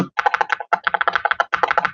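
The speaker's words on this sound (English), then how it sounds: "let's get a quick sound test of the keyboard" Quick bursts of keystrokes on an Attack Shark R85HE keyboard, crisp clacky presses in rapid runs separated by brief pauses, close and alone.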